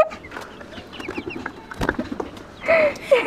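Several chickens clucking and squawking nearby in irregular bursts, with scattered scuffling noises and a louder squawk near the end.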